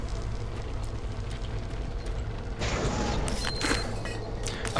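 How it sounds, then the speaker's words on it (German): Door mechanisms in the video game Doom 3 grind and creak over a low mechanical rumble, with a heavier metallic surge midway and sharp clanking bursts near the end, all without speech. "bei diesen Tür-Sounds denkt man tatsächlich, dass hier gleich irgendwas spawnt"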